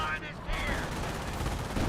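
Dense gunfire fills a Company of Heroes battle as an MG42 machine gun engages a T-70 tank, a continuous loud rattle of shots with faint speech briefly audible at the start.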